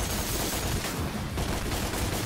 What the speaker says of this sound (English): Oh, I'm shooting the ground.